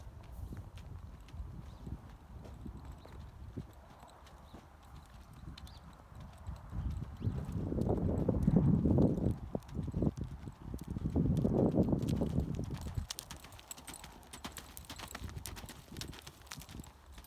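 A barrel racing horse's hooves clip-clop in an even walking rhythm, growing louder and heavier in two passes before fading back to quieter steps.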